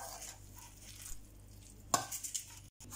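Soft, irregular scraping and squishing of a spoon mixing a thick pie filling in a bowl, quiet and close, with one brief sharper clink.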